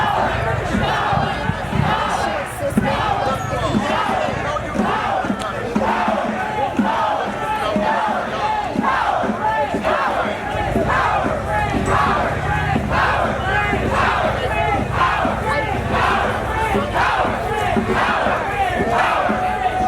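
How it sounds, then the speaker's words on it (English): A large crowd at the National Trans Visibility March cheers and shouts with rhythmic energy, a loud, dense roar of voices that is sustained for twenty seconds and sits close by. "Give yourselves a round of applause."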